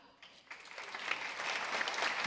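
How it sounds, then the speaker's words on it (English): An audience at a World Food Day ceremony breaks into applause. It starts sparse and quickly swells into a full, steady clapping crowd that holds to the end. "And a round of applause for Judy Kipkenda."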